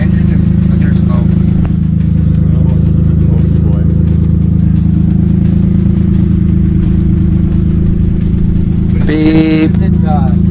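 The front engine of a twin-engine Mazda MX3 idles loud and close in a steady low drone, with a brief sharp clatter near the end.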